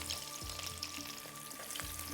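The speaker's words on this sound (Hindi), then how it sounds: "जब तक ये फ्राई हो रही है" Food frying in a pan while cooking shahi qorma, a faint steady sizzle with soft crackles and a few low bumps.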